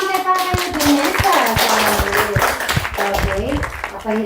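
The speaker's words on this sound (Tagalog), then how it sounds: "Ay, palakpak din, Vanessa?" Close rhythmic clapping from a small group at a family birthday party, sharp hand claps mixed with children's and adults' voices talking over them.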